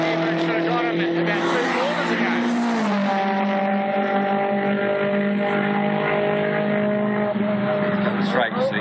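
A Mitsubishi Evo race car running on the track at Manfield, with a loud, continuous engine drone whose pitch rises and settles as the car works through the gears.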